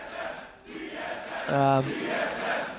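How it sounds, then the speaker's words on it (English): A crowd at a League of Legends EU LCS esports arena makes a steady roar that swells briefly into a loud chant, with a commentator talking over it. "the crowd has been awesome today with chants"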